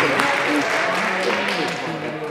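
An audience at a formal function claps, a dense, even wash of applause lasting a couple of seconds.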